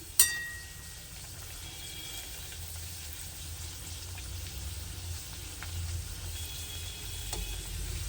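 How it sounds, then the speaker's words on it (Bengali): Paneer kachori deep frying in oil after being flipped, a soft steady bubbling sizzle opening with a brief sharp clink, fairly quiet and close with no speech. "উপর পিঠটা ভাজার জন্য এটা উল্টে দিলাম।"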